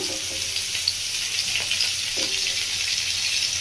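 Pumpkin and drumstick pieces sizzle in hot oil in a frying pan for a Bengali mixed-vegetable dish, a steady close, loud crackling hiss with a few light stirring knocks and no talking.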